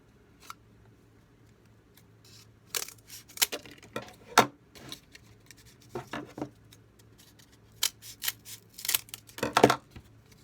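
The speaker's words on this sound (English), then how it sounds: "The cardboard's a bit big, so I'll cut it to shape." Scissors snip through cardboard being trimmed to shape for a skate shoe repair, a series of crisp, close cuts and rustles in uneven bursts against a quiet room.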